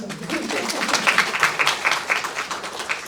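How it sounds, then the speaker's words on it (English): Scattered audience clapping at a community medicine talk event, moderate and uneven with individual claps standing out, some voices mixed in. "So you guys I see claps, y'all"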